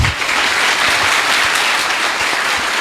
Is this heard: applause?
yes